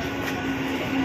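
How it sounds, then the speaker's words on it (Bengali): A Naihati local train rolls into platform 1 at Belgharia station, a brief steady rumble carrying a faint tonal whine. "এখন ট্রেন ঢুকছে 1 নম্বর প্ল্যাটফর্মে"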